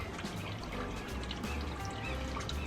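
Water gushes steadily from a patio hose onto potted plants, a continuous close pouring and splashing with no pauses.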